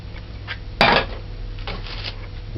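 Coconut goes into cake batter in a bowl with one sharp clatter of utensil against the bowl, followed by quiet scraping and mixing sounds nearby.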